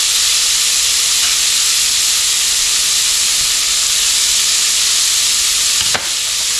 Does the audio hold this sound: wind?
no